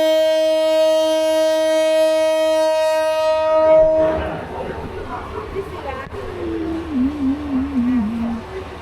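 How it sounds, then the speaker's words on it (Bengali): The Jamalpur Express pulls out of Mymensingh station at night, bound for Dhaka. A loud, sustained horn blast runs for about four seconds, then gives way to rumbling wheels and a wavering high metallic squeal as the train gets moving. "প্রায় দীর্ঘ 30 মিনিট পর ময়মনসিংহ থেকে জামালপুর এক্সপ্রেস ট্রেন ঢাকার উদ্দেশ্যে ছেড়ে দিল।"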